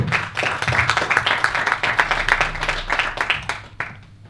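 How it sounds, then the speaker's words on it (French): An audience welcomes a woman stepping up to give a speech with a burst of lively clapping that holds steady for several seconds and then thins out at the end. "Vous pouvez l'applaudir."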